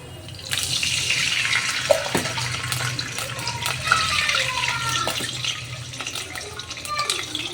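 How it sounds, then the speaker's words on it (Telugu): Water pours steadily into a cooking pot for pulao, measured out by the cupful, a close splashing stream that runs almost the whole time with small drips and clinks and no talking. "త్రీ కప్స్ అయితే వాటర్ పోస్తాను"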